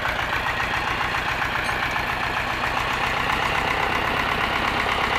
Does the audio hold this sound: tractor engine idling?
yes